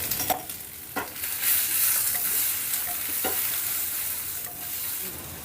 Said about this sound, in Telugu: ఒక 2 నిమిషాల పాటు ఈ బెండకాయలని వేపుకున్నాం